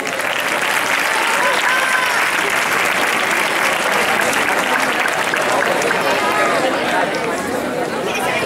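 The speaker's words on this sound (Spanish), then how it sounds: "un aplauso para ella" A graduation ceremony audience gives sustained, dense applause that fills the whole stretch at steady loudness, with crowd chatter mixed in.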